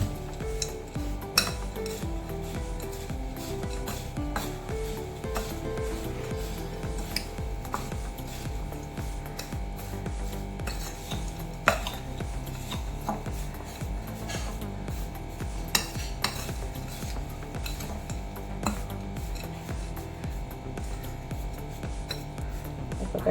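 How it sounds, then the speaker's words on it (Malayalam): A spoon stirs white flattened rice mixture with powdered sugar in a bowl, giving a soft continuous scraping and rustling with scattered metallic clinks, close and fairly quiet. "പൊടിച്ച പഞ്ചസാരയും കൂടെ ചേർത്തിട്ട് നന്നായിട്ട് മിക്സ് ചെയ്യാം."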